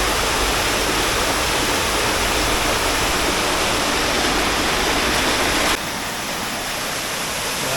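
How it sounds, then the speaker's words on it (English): A waterfall in a cave near San Vicente de Chucurí pours down in a loud, dense, unbroken roar of rushing water, heard close with no voices, easing slightly partway through. "So I just made the effort to get over to the base of this waterfall."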